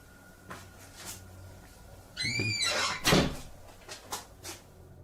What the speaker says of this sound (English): the demon shuts the door behind him